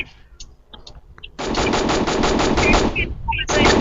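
Rapid automatic gunfire from a shooter video game, a dense loud burst lasting a couple of seconds, briefly pausing, then resuming, preceded by quieter game sounds.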